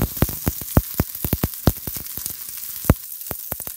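An omelet fries in a pan, giving scattered sharp crackles and pops at an irregular pace over a steady soft sizzling hiss, close and fairly loud.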